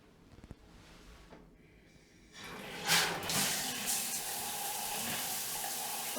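Water bursts on in a hotel room shower at the Ritz-Carlton Toronto after a quiet start with a few light knocks, then a steady, strong hissing spray runs continuously up close.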